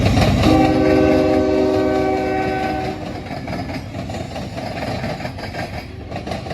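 A C&O freight train passes close by at Marion, Ohio, sounding its horn in a long blast as heavy rolling wheels clatter steadily over the rails.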